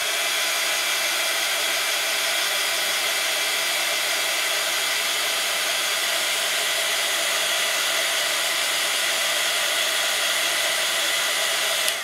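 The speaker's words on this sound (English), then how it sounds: "let me dry this off quickly" Hair dryer or heat tool blowing on a paper craft project, a loud, even, close whoosh running unbroken for about twelve seconds, cutting off at the end.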